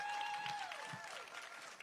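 Applause from an audience at a live stamp unveiling event, a steady wash of clapping under a faint sustained tone that glides downward.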